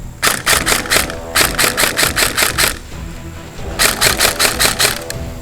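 A Bolt B4A1 SOPMOD airsoft rifle fires on semi-auto in quick bursts of sharp clacking shots, about a dozen in a row, then a pause, then another run of rapid evenly spaced cracks.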